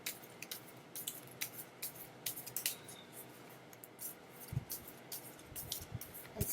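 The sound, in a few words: shuffling a tarot card deck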